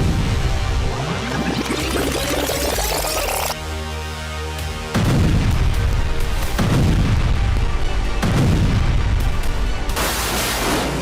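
Hezbollah's attack on an Israeli army Humvee gives heavy, loud blasts: several deep booms with broad rushing roars that swell and fade, separated by brief lulls, with no voices.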